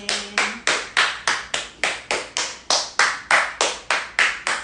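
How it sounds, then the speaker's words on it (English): Slow, deliberate hand claps from a fascial movement class, about twenty sharp, evenly spaced claps in a steady rhythm, each ringing briefly in the room, with no talking over them. "Let's clap our hands."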